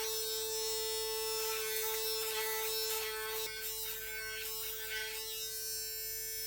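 A Panasonic ES-LT4B electric shaver runs with a steady high buzz while shaving, with brief rasping bursts as the foil passes over stubble, close and continuous without talk.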